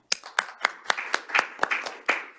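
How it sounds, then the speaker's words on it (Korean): Members of a seminar audience clap to welcome panel speakers in a small, quiet gathering, with roughly a dozen sparse, distinct hand claps in an uneven rhythm over a couple of seconds. "큰 박수로 맞이해 주시기 바랍니다"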